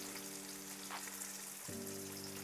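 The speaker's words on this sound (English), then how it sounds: "Oil is now hot. I'm gonna start frying them." Steady crackling sizzle of potato tacos deep-frying in hot oil, constant and close, with a low humming tone underneath that shifts pitch partway through.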